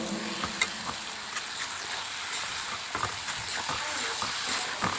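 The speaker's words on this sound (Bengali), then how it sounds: "ভাজিটা লেড়ে চেড়ে দিচ্ছি ঢেকে, আবার তুলে দিচ্ছি" Vegetable bhaji sizzles and crackles in hot oil in a pan while it is stirred, a steady close frying hiss broken by scattered scraping taps of the spoon.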